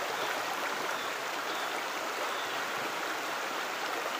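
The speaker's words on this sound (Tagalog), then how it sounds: "Baha na oh." A flooded river rushing past, a dense continuous roar of churning water, steady and fairly close with no talk.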